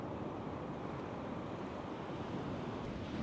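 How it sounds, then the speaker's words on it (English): Big ocean waves break along a coast, heard as a steady broadband wash of surf with some wind, fairly faint and unbroken throughout. "Big waves out the back."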